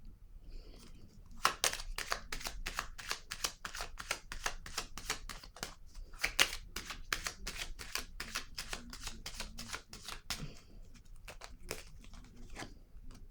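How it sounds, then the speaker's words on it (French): Tarot cards are handled and laid down one after another, a rapid, steady run of crisp flicks and papery slaps, close and fairly quiet, slowing briefly near the end, with no voices. "Je vais déposer une carte ici."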